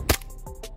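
A tan WE Kimber 1911 airsoft pistol fires one sharp, close shot, followed by a couple of fainter mechanical clicks.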